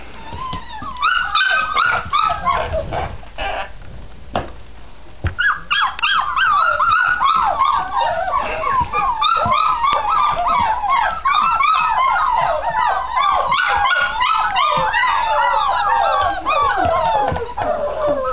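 Several puppies yip, whine and whimper continuously in high, overlapping cries, close and fairly loud, with no talking.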